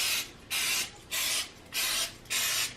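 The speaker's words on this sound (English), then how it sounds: "So we're just gonna lightly spray this" Five short hissing sprays of canola oil from a can onto a baking pan, evenly spaced in a steady rhythm, close and fairly loud, with quiet pauses between.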